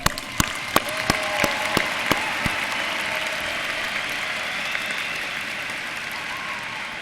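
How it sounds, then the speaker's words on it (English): Applause and scattered sharp claps from a crowd at a university commencement ceremony, starting with distinct loud claps that settle into a steady wash of clapping. "Let's give them a round of applause."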